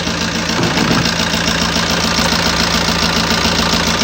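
A car engine, freshly rebuilt in a repair shop and with a suspected injector fault, idles steadily up close, a constant rumbling drone with a faint rhythmic knock running through it.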